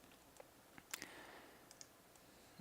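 Faint computer mouse clicks while selecting wall faces in Blender 3D software, a handful of quiet, scattered clicks over a soft room hiss, with no talking.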